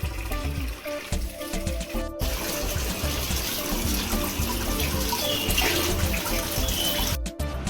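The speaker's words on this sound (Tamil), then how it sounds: "உப்பை போட்டு அதில் தண்ணி ஊற்றி மறுபடியும் மீனை வந்து நல்லா வாஷ் பண்ணிட்டான்." Water runs and splashes steadily as fish is washed in salted water during home cooking, with a continuous trickle and a couple of brief pauses.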